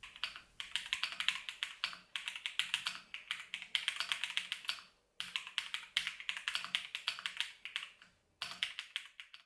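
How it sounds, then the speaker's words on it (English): Rapid typing on a heavy gaming keyboard with gradient keycaps, close and crisp, coming in quick bursts of clacking keystrokes separated by two brief pauses, with no voices. "I really like the look of the gradient keycaps and how it sounds when typing"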